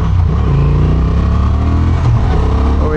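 A Honda Transalp 750 motorcycle engine revs loud and close, a continuous throaty roar that rises and falls slightly across a few seconds.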